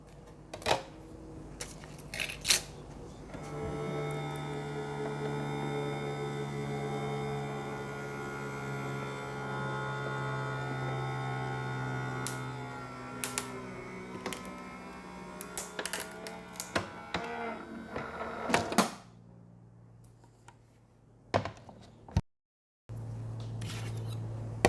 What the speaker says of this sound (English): I'll cut another U